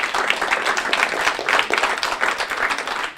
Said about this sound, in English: Oh, a round of applause for him.